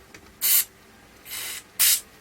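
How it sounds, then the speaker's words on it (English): Three short bursts of spray grease from an aerosol can hiss onto the mechanism of an Ekco vanity case radio from around 1960, the middle blast softer than the other two, with quiet gaps between them. "I'm just going to give the mechanism on this side a little blast with some spray grease."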